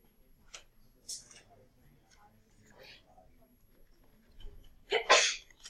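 A single sharp sneeze bursts out near the end, after quiet murmuring and faint background rustles in a geometry classroom.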